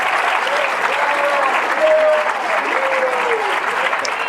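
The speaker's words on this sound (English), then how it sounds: "give them a big round of applause" Sustained applause from an audience at a high school fall sports awards night, steady and fairly loud throughout with crowd noise mixed in, a few scattered voices and cheers rising over the clapping.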